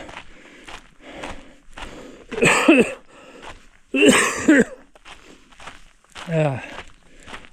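Several harsh coughing bursts come in a loose series, close and fairly loud, with quieter breathy gaps and faint movement between them, on a hiking trail in Arches.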